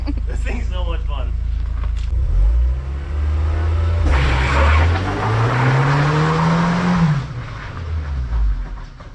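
A Volkswagen MK3 GTI slides in snow under a hard pull of the e-brake, its engine droning and rising in pitch through the skid before dropping off, close by.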